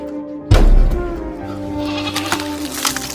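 Goats bleating close by on a rural Chhattisgarh farm, a loud sudden bleat followed by sustained wavering cries with livestock noise, no speech.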